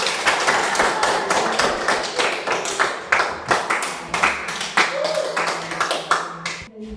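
A class of students claps hands after a group presentation, a fairly close burst of separate, uneven claps and taps with some thumps, fading at the end.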